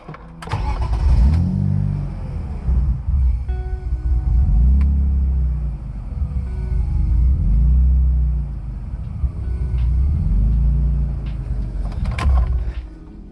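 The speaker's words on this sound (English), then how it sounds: "it's running fine after the cold start, but it dies after every time I start it now" A BMW E30 with a swapped-in M50 engine, custom exhaust and a vacuum leak cranks and starts, then revs and surges up and down in slow repeated waves at idle before dying, loud and close.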